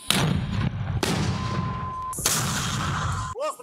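Artillery guns fire at a frontline position: three sharp, loud booming blasts, each with a rolling decay, spaced about a second apart, followed by a brief whistling tone near the end.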